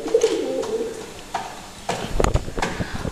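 A male pigeon from a breeding pair coos close by, a soft low rolling call at the start, followed by a few scuffling flutters and taps.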